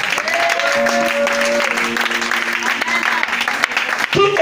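A church congregation applauds and cheers during a worship service, a broad clatter of clapping mixed with voices and sustained tones from music or singing.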